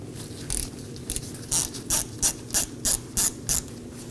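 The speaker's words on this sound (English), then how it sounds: "I'll be using a T30 Torx bit to remove the screw." A ratchet driving a T30 Torx bit loosens the wheel speed sensor screw on a 2018-2024 Chevrolet Equinox rear knuckle, giving about ten quick, close clicking bursts in a steady rhythm over a low background hum.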